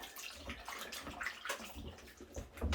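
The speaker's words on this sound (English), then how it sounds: "rinse it off" Running water splashing and sloshing as walking boots with a waterproof membrane are rinsed off, a steady close wash of water, fairly quiet.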